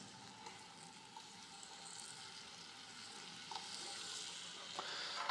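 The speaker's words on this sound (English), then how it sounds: "And then we're going to saute these pieces of cheese." Pieces of firm kefalotyri cheese saute in hot olive oil, giving a faint, steady sizzle that swells slightly with a few small pops and ticks near the end, with no voices.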